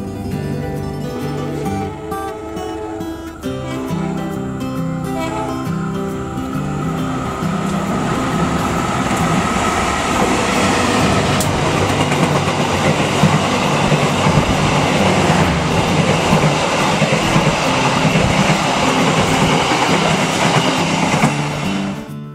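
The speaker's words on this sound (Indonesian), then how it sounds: "Di perjalanan naik kereta api Probowangi ini, kita bakal disuguhkan pemandangan yang luar biasa" A passenger train, the Probowangi, rolls steadily along the rails with a continuous rumbling roar and rhythmic clatter, loud and close, as if heard from inside a carriage.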